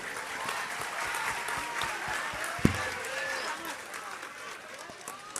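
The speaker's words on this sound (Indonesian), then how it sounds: "Terus tepuk tangan cinta semua untuk beliau." A crowd at an evening gathering with Prabowo in Mojokerto applauds steadily at moderate distance, a continuous wash of clapping with a single sharp knock partway through.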